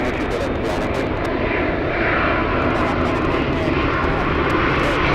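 An Airbus A350 jet at LAX roars loud and close, a steady, dense engine rumble that holds throughout and builds slightly.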